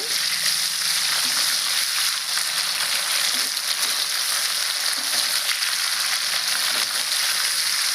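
Oil frying food for a cauliflower and egg curry, a loud, dense, constant sizzle right up close with faint stirring scrapes underneath.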